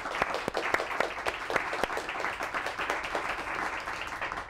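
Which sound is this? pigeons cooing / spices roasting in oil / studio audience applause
studio audience applause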